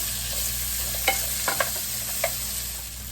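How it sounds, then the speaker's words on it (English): Potatoes fry in butter in a pan with a loud, steady sizzle close by, broken by a few scraping clicks from a utensil. "We're gonna dump all of our potatoes because they're gonna take the longest to cook up."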